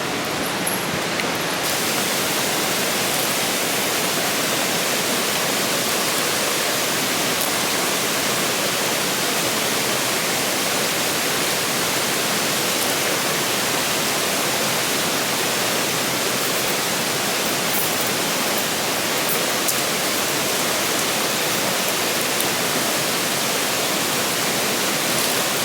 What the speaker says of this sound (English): As you guys can hear the water.